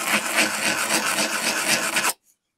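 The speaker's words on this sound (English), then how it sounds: "I square off the ends by sanding it in that fashion" Rapid, rough back-and-forth sanding of the ends of metal wire lengths scrapes loudly for about two seconds, then stops abruptly, followed by a tiny tap.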